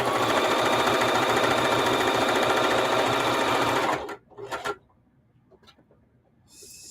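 A sewing machine stitches a quilted mug rug with a steady fast whirring chatter for about four seconds, then stops, leaving a few soft clicks and handling noises before quiet.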